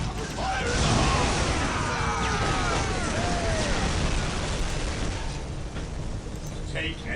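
Grenade explosions in the Warhammer 40k: Dawn of War battle, a heavy roaring blast that fades into a long rumbling, crackling wash, loud and dense, with voices speaking over it.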